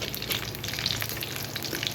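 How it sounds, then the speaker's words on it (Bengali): Frozen samosas fry in a shallow layer of hot oil, a steady, close, dense crackling sizzle with no talking. "এগুলো আমি গতকাল ফ্রোজেন করে রাখছিলাম সিঙ্গারাগুলো, এগুলাই এখন ভাজা করব"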